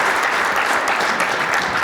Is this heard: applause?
yes